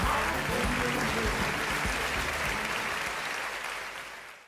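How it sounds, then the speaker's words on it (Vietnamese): Audience applause congratulating contestants on a Vietnamese competition show as they secure their seats, a dense, loud, continuous roar of clapping that holds steady and then fades out toward the end. "Cho một tràng pháo tay chúc mừng các thí sinh của chúng ta đã an toàn trên vị trí của mình."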